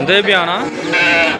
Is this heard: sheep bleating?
yes